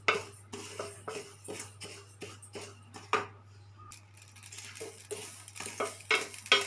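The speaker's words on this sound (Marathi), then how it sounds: "आता मी कमी पावरवर मोहरी अशी भाजून घेते" Mustard seeds roasting in a pan on low heat, stirred quickly so the spoon scrapes and taps the metal in an irregular rhythm over a faint crackle.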